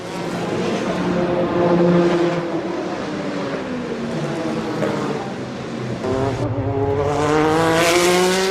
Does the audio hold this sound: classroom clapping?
no